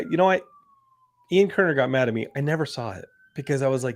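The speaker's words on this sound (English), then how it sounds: "That's the siren for the show." A faint, thin siren tone rises and falls in the pauses between several people talking, steady and not loud.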